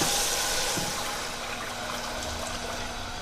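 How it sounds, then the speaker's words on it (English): Chicken broth is poured steadily into a cooking pot, giving a continuous splashing, trickling liquid sound that is moderately quiet and heard on its own. "slowly add the chicken broth"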